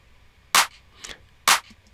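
Two sharp electronic clap hits from a bass house drum pattern, about a second apart, dry and punchy with brief snappy tails and a faint softer hit between them.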